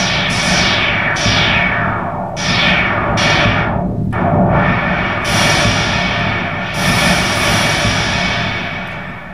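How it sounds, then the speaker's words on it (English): Loud, continuous noise from a Moog Multimoog analog synthesizer's noise source, with repeated hissing sweeps that fall in pitch, some rising again, each lasting about a second, with no voices. "I will show you also that the noise source works."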